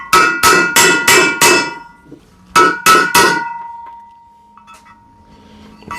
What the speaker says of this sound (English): I need to center punch these.